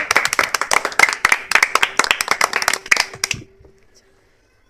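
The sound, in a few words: people clapping for the game winner's prize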